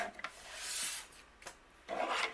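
A gingham-print paper card panel is trimmed close up in a quiet room, giving soft scraping and rasping strokes, a short pause, then a final rough cut.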